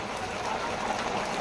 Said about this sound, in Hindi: देखिए बहुत ज़्यादा बारिश हो रही है।